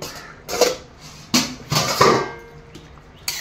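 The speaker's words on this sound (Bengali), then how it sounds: "এইভাবে ঢাকনা তুলবো।" A lid is lifted off a cooking pot of fish and fig curry, giving a few sharp metallic clinks and scrapes close by with short pauses between them.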